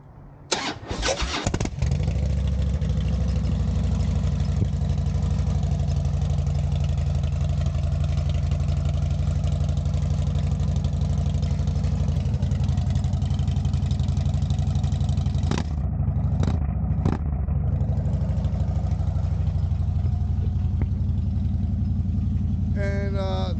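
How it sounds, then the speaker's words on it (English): A motorcycle engine cold-starts with a quick cranking burst, catches, and settles into a steady, loud idle that rumbles on close by for the rest of the stretch, with a couple of brief blips late on. "I'm gonna go ahead and do a cold start too."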